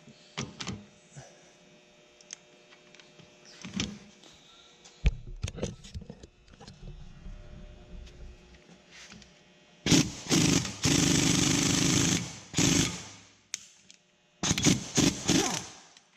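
A compressor tool presses the piston back into a BMW E46 front brake caliper. Faint clicks and knocks come first, then two loud, sustained mechanical grinding bursts close by, the second shorter.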